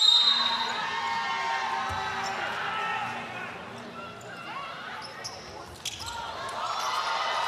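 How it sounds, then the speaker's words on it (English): Basketball arena crowd stirring as teams take the court before a FIBA Women's Asia Cup game between China and Korea in Sydney, a broad murmur of many voices with faint shouts and a commentator talking over it. "You can hear the crowd getting up and about as well."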